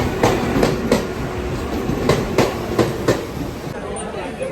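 A Mumbai local train runs along the tracks with loud, steady rumbling and a regular clickety-clack of wheels over rail joints, heard from inside the carriage.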